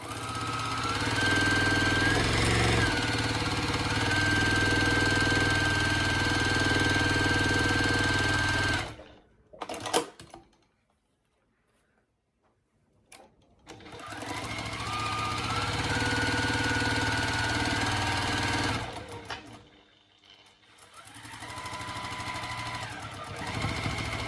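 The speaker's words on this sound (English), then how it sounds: "let's head back to our sewing machine and let's sew these ones all up" A sewing machine stitches quilt pieces with a fast, loud mechanical rattle and steady whir, running in two long bursts separated by a short pause with a few clicks.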